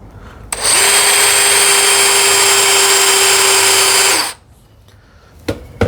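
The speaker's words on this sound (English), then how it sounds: "This is not the countersink bit I normally use for wood, but let me give it a try." A countersink bit in a power drill bores into wood for a TV unit, a loud, steady high whine lasting about four seconds before cutting off, followed by a couple of faint knocks.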